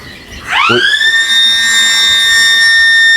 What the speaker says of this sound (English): that is an alarm that happens when either power has gone off or to alert them to come and switch on emergency generator.